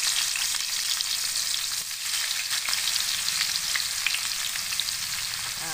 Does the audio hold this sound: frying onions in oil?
yes